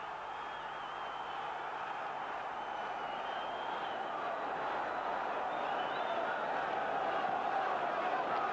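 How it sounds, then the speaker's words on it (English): A football crowd at Sunderland's stadium during a 1991/92 Division Two match against Millwall makes a steady, distant roar that swells slightly, with no distinct individual claps. "And look at the applause there from the full end."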